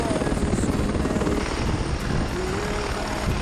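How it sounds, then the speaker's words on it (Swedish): Helicopter flying near a mountain during heli-skiing in Åre, its rotor producing a steady, loud rhythmic chop and broad whooshing roar throughout, heard fairly close with no talking over it. "Helikoptern flyger där vid solen som ligger på kanten av berget."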